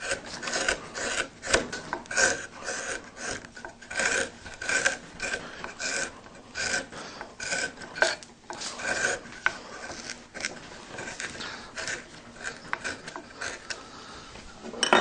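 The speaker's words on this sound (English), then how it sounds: "swap to a deep gouge, and across the grain just take some of this wood away here" Deep gouge cutting across the grain of a wood carving of butterflies and moths, giving steady repeated rasping scrapes in close succession, near and fairly loud, with no talking.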